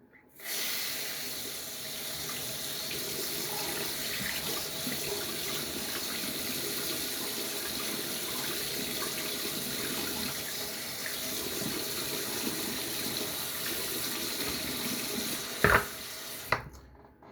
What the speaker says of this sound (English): Rinse off with some hot water.